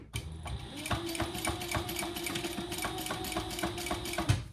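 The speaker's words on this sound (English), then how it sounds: "We're only going to stitch across the bottom at that 1/8 of an inch." A domestic sewing machine runs steadily, stitching across the bottom of a pleat on a crossbody bag, its needle chattering in a fast even rhythm close by from start to finish.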